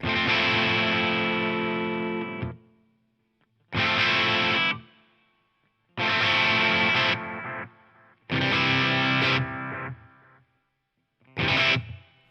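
Loud distorted electric guitar chords with overdrive ring out in separate bursts, some sustained and some clipped short, with a faint echoing tail from a delay effect on a Line 6 HX Stomp after several of them.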